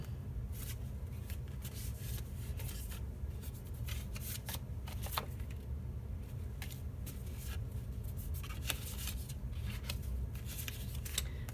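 Paper cards are flicked and shuffled through by hand at a stamping craft desk, giving continuous close, dry riffling and rubbing with quick crisp flicks.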